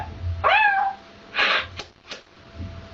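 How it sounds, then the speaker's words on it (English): A domestic cat meows clearly and nearby, one drawn-out call followed by a few shorter, breathier vocal bursts, with no speech around it. "Cat."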